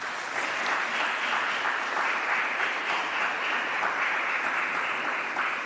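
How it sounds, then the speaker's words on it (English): A ceremony audience applauds steadily at the investiture of Jamaica's Poet Laureate, a dense, even wash of many hands clapping from a moderate distance, sustained without any talk over it. "Please applaud them"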